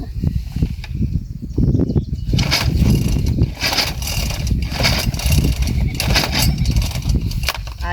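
A grass cutter's small engine being started on a farm: repeated rough pull-start cranking and sputtering, loud and close, with mechanical rattles and no steady running.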